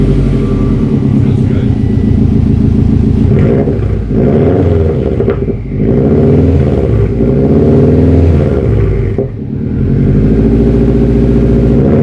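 A 2004 Subaru STI fitted with a Tomei catback exhaust revs loudly up close, with repeated rising and falling engine pulls and brief dips between them.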